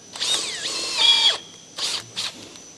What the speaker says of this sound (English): Helps if your drill chuck's not worn out.